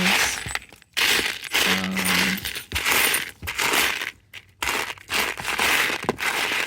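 Glass beads being handled in a sensory bin, with bursts of clicking, rattling and crunching as they are stirred and poured, close and fairly loud, broken by brief pauses, with no speech.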